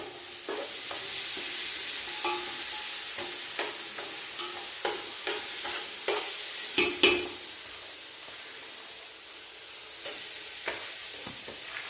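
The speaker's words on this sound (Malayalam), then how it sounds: "ബിരിയാണി അരിയും ഇട്ട് കൊടുത്തിട്ട് നന്നായിട്ട് വറുത്തിട്ട് എടുക്കാം" Washed, drained biryani rice sizzling in a hot pan while a spoon scrapes and stirs it, sharp clinks popping up irregularly over the steady hiss.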